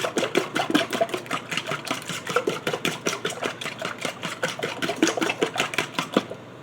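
Keto egg cup ingredients being stirred in a bowl, a rapid, regular series of close clicking taps from a utensil against the bowl, continuing for several seconds before stopping.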